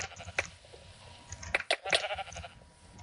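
Sheep in Minecraft during a Mineplex Sheep Quest match, giving a few short, sharp bleats scattered over about three seconds against a low game-ambience background.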